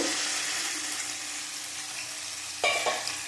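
Cumin frying in oil in a pan gives a steady, close sizzle until a splash of water hits it, bursting into a sharper, louder hiss and spatter.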